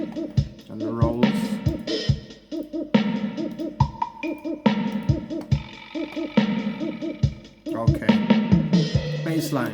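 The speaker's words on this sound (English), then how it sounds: "And the rolls." Reggae drum track with fills: a steady groove of kick, snare and hollow hand-percussion tones, broken by dense rolling bursts of rapid hits at a few points.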